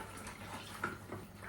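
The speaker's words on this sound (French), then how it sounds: "Allez, on rince bien." Running water pours steadily over hair being rinsed at a hair salon basin, a close, continuous splashing hiss with small fluctuations throughout.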